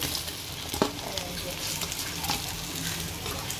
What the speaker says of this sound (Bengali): আমাদের মাছ ভাজা হয়ে গেছে, এখন নামাই নিলাম।